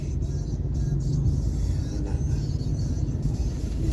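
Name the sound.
road traffic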